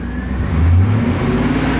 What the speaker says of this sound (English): See how it's idling and it's kind of in the middle there, and I rev it up.